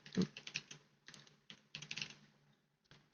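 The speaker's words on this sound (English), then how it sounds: "go to settings, and type in download" Quick, light tapping on a computer keyboard, a short burst of keystrokes entering text into a settings search box, close and quiet with no voices.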